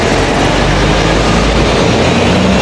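A truck passing right beside a rider on a Dualtron Victor Limited electric scooter, a loud, dense, unbroken rumble and roar that fills the whole moment with no voices.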